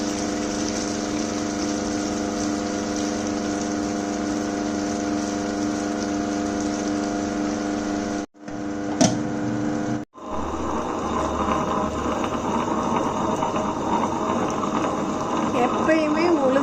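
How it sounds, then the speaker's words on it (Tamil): A wet grinder works soaked batter ingredients with a little added water for ragi idli. Its motor gives a steady, close humming drone that cuts out briefly midway, then resumes with a rougher, sloshing churn. "இந்த மாதிரி கொஞ்சோண்டு தண்ணி ஊற்றி ஆட்ட ஆரம்பிச்சிடலாம்"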